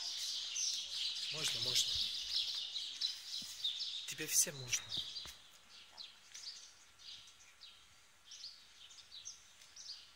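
Small birds chirp and twitter in rapid bursts outside the Church of Saint Nicholas in Demre (Myra), Antalya, Turkey, close and fairly clear, while a voice speaks briefly over them early on.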